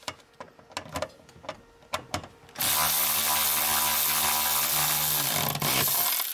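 A bolt is tightened on a BMW X3 during repair work: a run of sharp, separate clicks gives way to a loud, continuous mechanical whir that holds steady to the end.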